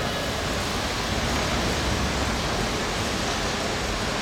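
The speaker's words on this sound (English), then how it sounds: "Part of the charm of being live at a track race is the white noise of the rollers humming in the background." Bicycle rollers hum at a track cycling race, making a dense, steady whooshing roar like white noise that fills the space without pause.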